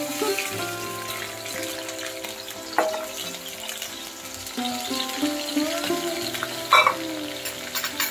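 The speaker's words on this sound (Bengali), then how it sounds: "এই গোবিন্দভোগের চালটা একটু ভেজে নিতে হবে, একটু আলতোভাবে ভেজে নিতে হবে" Gobindobhog rice gently frying in a pan, a steady close sizzle with soft stirring scrapes and a few sharper clinks, alone without talk.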